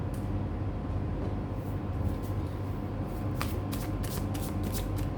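Oracle cards shuffled for a reading, a steady soft papery riffle running throughout with brighter crisp card flicks near the end, close and fairly quiet with no talk.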